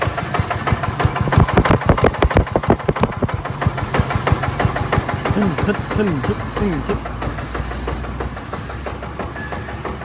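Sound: Yanmar NF80 diesel engine running with tiller

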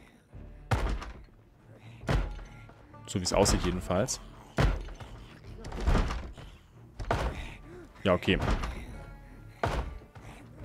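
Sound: door thumps in Project Zomboid video game

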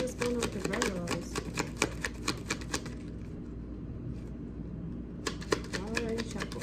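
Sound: shuffling cards

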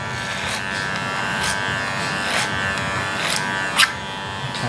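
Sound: electric hair clippers cutting hair

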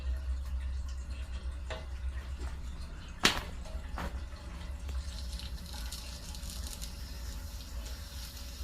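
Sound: water gurgling through heating pipes

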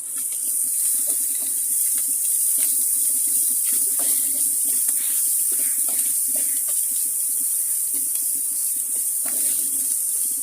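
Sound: ginger garlic paste frying in a pan for paneer curry

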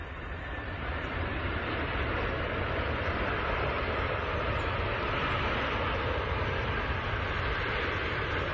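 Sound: Antonov An-225 heavy airplane landing, six turbofan engines

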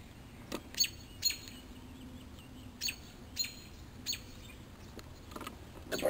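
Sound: birds chirping agitated over their nest of babies

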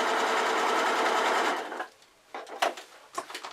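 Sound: sewing machine stitching an iPad case

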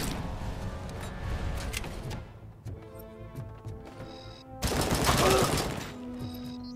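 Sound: gunfire in the video game Robocop Rogue City

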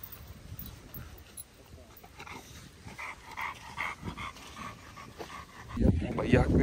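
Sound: dog barking and whimpering

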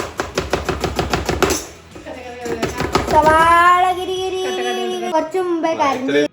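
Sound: knife chopping onion for salad

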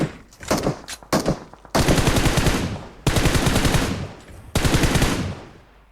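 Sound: gunfire in the video game PUBG Mobile

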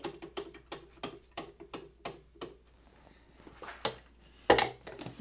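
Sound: timer ticking

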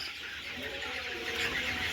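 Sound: chickens on a small poultry farm

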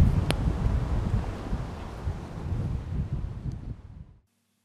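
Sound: strong wind blowing

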